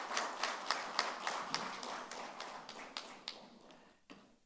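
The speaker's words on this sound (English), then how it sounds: "So big round of applause for Parasji." An audience at an Indian Union Budget 2023-24 impact analysis session applauds, a dense patter of clapping that gradually thins and fades out over a few seconds.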